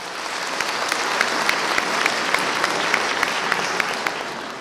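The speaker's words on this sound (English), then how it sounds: "Let's give Steve a big round of applause for what he's doing." A large luncheon audience applauds steadily, a dense, even wash of clapping that holds at full strength throughout.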